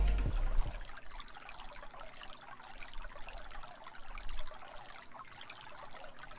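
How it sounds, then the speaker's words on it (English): Stream water sample from the Xenology plugin, a steady trickling, babbling flow of running water with continuous bright splashing texture, played alone without talk. "the first thing I added to this beat was this stream sound effect from"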